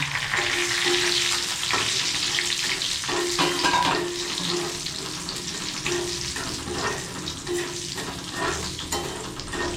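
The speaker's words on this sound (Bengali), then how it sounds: "এই তেলের মধ্যে দিয়ে দিলাম মধ্যে জিরে আর তেজপাতাটা দিয়ে দিলাম" Cumin seeds and a bay leaf sizzle in hot oil with a loud, dense crackling hiss that stays close and steady, with faint utensil clinks scattered through it.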